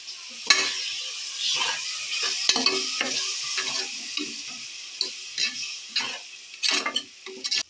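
Curd being stirred into frying masala for egg biryani, a soft continuous sizzle broken by repeated sharp spoon scrapes and knocks against the pan, close and fairly quiet, with no talking.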